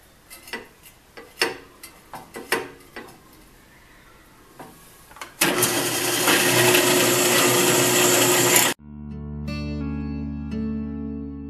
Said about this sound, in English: So I'm drilling 21/64 holes.